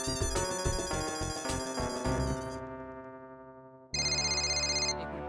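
A mobile phone ringtone plays a bright electronic melody, loud and close, pausing briefly before starting again.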